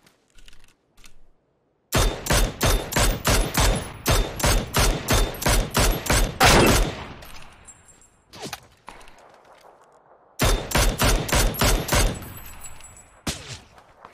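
Rapid gunfire in a competitive ranked first-person shooter game, two loud close bursts of evenly spaced shots with a short gap between them, plus a few isolated single shots.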